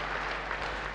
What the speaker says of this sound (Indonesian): beri tepuk tangan yang baik buat Tuhan